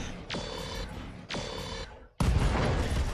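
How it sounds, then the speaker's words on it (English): Chemical ammo explosions in the mech video game Roguetech, loud booming blasts with whistling tones, two bursts followed by a heavier, sustained roaring explosion. "Ooh, chemical ammo explosion."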